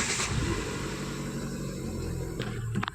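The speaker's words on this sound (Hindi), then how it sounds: "तो अभी आपको मैं स्टार्ट करके दिखाता हूँ।" A 2019 Hyundai Santro Magna hatchback engine cranks and idles nearby, a steady low mid-range hum filling the whole stretch with a brief rise near the end, no talking over it.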